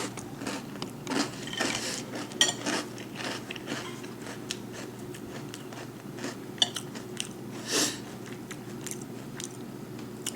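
Someone bites and chews chocolate Fiber One squares, close crunchy bites and chewing clicks scattered irregularly over steady room noise, with a few sharper louder crunches.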